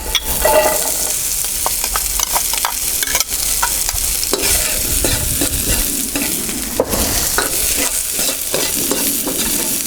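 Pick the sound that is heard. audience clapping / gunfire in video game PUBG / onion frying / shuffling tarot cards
onion frying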